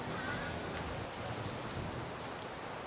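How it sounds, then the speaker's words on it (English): Rain in Bali, a dense steady patter of drops on surfaces filling the whole stretch evenly, with occasional sharper drips standing out and no talking. "And now it's started to rain."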